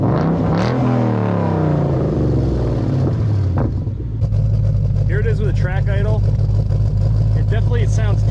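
A Ford Mustang GT 5.0 with an axleback exhaust runs in track mode, with a brief rev that falls back into a low, steady rumbling idle. It is loud and close, and someone talks over the later part.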